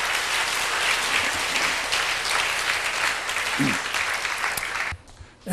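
A large church congregation applauds loudly and steadily after a prayer, a dense clapping roar that holds for several seconds before abruptly dropping off near the end.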